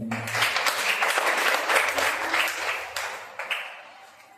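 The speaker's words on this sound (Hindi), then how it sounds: "आइए हम उस पवित्र परमेश्वर के लिए जोरदार तालियां हो।" A church congregation at a Sunday service breaks into loud, sustained applause that gradually tapers off toward the end, with a few voices mixed in.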